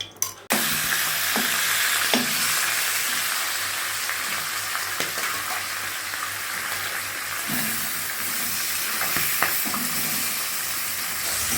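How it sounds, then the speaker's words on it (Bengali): Fish fries in oil in a kadai with a continuous, dense sizzle, close and steady throughout, broken by occasional soft clicks of stirring and no talking. "তেলে মাছটা ভাজবো।"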